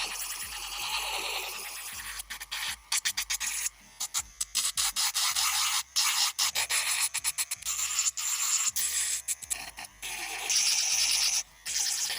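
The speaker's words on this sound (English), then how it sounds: "take a fine grit sanding band, and I'm just going to remove the shine from all the tips" Close-up scratchy sanding in quick bursts, a fine grit sanding band rubbing polygel nail tips briefly then pausing, repeated in an uneven rhythm with no voices.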